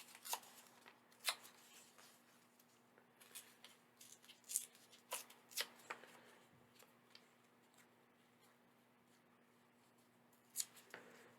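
Coffee-dyed paper is torn in short, crisp rips, a dozen or so scattered bursts with pauses between them. The tearing sounds close and fairly quiet over a faint background hum, with no talk.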